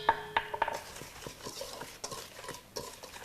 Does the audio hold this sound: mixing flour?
yes